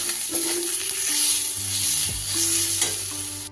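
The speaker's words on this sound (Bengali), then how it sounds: "খুব ভালো করে কষিয়ে নেব।" Kashmiri chili powder with coriander and cumin powder frying in oil, a bright continuous sizzle under slow stirring scrapes and occasional clinks of the spatula, close and without speech.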